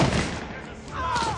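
Gunfire in the video game Mafia, dense bursts of shots filling the scene with a heavy, continuous crackle while voices shout over the shooting.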